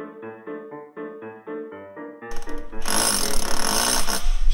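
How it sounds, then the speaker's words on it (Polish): A power drill bores into a house wall, starting partway through as a loud, harsh, sustained grinding roar that follows a stretch of melodic tones and then holds steady until the end. "gdzieś się przewierciłem, idę na strych zobaczyć"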